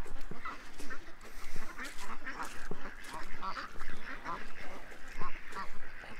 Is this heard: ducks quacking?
yes